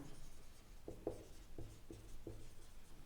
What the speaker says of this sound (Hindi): तो यहां पर हम ऊपर लिख देंगे ट्रेडिंग अकाउंट